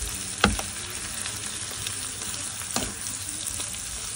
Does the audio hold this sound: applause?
no